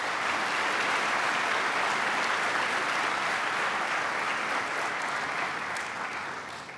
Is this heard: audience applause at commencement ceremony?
yes